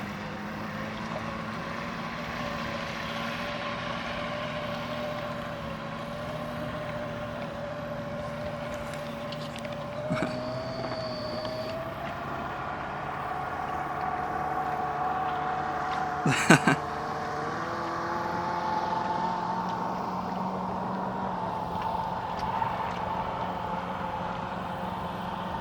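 A 1967 Sears outboard boat motor runs steadily on the water, a continuous droning hum with a slight pitch shift partway through and a brief knock or splash, heard from moderately close.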